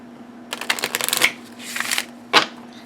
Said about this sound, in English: they shuffle overhand really well, and you can riffle them